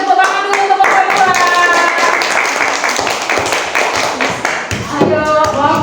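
A classroom of students claps for group 2, a brisk, dense patter of many hands that carries on steadily for several seconds and thins near the end.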